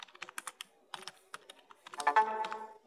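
Keys on a computer keyboard are tapped in quick, uneven bursts of close, crisp clicks, ending in a denser flurry of typing.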